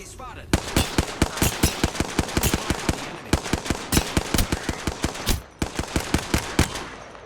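A Hemlok rifle in Apex Legends fires rapid burst after burst, a dense run of loud, sharp reports that keeps going for several seconds with only brief pauses.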